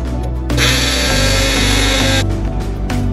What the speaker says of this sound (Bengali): এই সমস্ত কিছু খুব সুন্দর করে আমি বেটে নেব।